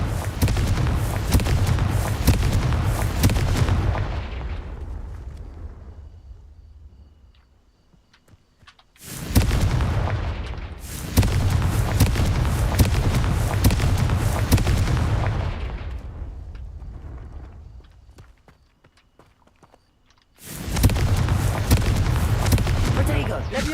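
Confringo explosive spell blasts in the Hogwarts Legacy video game, heard as three massive booming roars, each sustained for several seconds before rumbling away, loud and dense with low-end weight.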